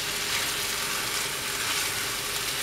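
Noodle stuffing for a paratha fries lightly in a pan, giving a continuous soft sizzle close by, with no one speaking.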